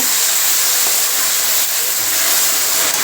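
Tomatoes go into a pan of sautéed onions for mutton curry, raising a loud, dense, unbroken sizzle and steamy hiss that holds steady throughout with no talking.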